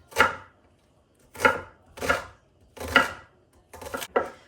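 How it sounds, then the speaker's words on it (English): A small onion being diced with a knife on a cutting board, with five widely spaced, crisp chopping strikes close to the mic and a quick double chop at the end, with no talk. "Dice up this little onion"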